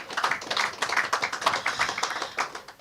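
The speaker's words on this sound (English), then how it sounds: "They deserve a round of applause." Audience applauding at the commissioning ceremony of the Perseverance Landfill, a steady patter of many hands clapping at moderate distance, dense and even throughout with no voices over it.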